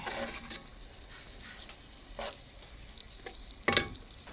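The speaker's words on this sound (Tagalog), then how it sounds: "Nandiyan na yung shell at saka itong hipon. Binisa natin siya ng butter." Shrimp and their shells sautéed in butter for a seafood egg-noodle pancit: a steady sizzle under stirring, with a sharper clatter of utensil against pan near the end and no talking.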